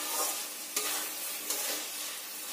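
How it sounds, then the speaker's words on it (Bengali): Fried eggs are gently stirred through a sizzling egg curry masala in a frying pan, with a soft steady sizzle broken by two light scraping strokes of a spoon. "এই সময় ভাজা ডিমগুলো দিয়ে দিতে হবে। দিয়ে হালকা হাতে নাড়তে হবে যাতে ডিমগুলো ভেঙে না যায়।"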